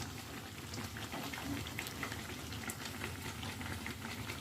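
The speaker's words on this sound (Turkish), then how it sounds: "pişilerde maşallah yemek kaynar gibi kaynıyor fakır fakır" Dense crackling and sizzling bubbles pop steadily as pişi dough fries in hot oil, a continuous close-up fizz with no voices.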